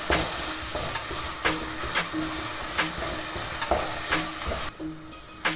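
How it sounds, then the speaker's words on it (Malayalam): Ground masala paste for a Trivandrum-style barracuda fish curry is stirred in a hot frying pan, with a loud sizzle broken by regular rhythmic scraping strokes of the spoon, close up. "അരപ്പ് ഒന്ന് ഇളക്കി കൊടുക്കാം."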